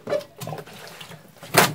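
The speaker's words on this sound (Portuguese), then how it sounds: "Vamos botar mais água aí, dona Cláudia?" Water is poured into an Arno twin-tub washing machine in a few short splashing bursts, the loudest coming at the end, with quieter trickling between them.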